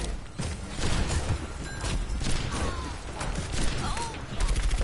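Rapid bursts of gunfire from the Overwatch video game rattle on continuously at moderate loudness, mixed with game effects.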